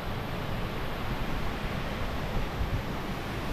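Mae Pan waterfall in Chiang Mai roars as a steady, dense rush of falling water, loud and continuous with no voices.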